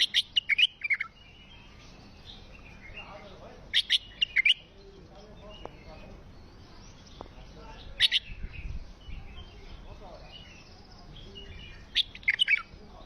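A bird sings in short, bright chirping phrases, repeated every few seconds over a quiet, slightly noisy background.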